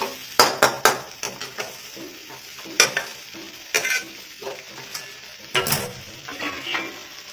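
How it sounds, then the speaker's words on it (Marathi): Green peas with garam masala stirred in a pan, with repeated sharp scraping and clanking strokes of a spoon against metal over a low sizzle, close and irregular. "आता पुन्हा याला थोडंसं असं मिक्स करायचं आहे"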